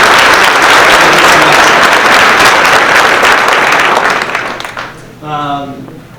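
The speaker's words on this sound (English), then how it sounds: "we will just do a round of" A room full of people at a Tenino city council meeting claps steadily and loudly for several seconds before the applause fades and a voice begins speaking.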